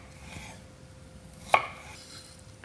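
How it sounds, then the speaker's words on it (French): A knife cuts ginger for a red lentil dal with one sharp, brief chop against a board midway through, surrounded by quiet room tone. "Donc là, je le coupe en tranches."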